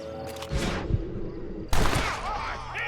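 Gunfire in the Western video game Red Dead Redemption: a couple of sharp, echoing shots crack out amid game sound, the loudest burst near the end, mixed with brief in-game voices.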